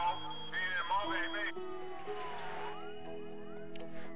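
A fire engine siren from the city-building video game SimCity, a wailing electronic tone rising and falling with layered game sounds and music beneath it.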